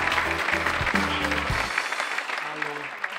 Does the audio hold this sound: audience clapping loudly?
yes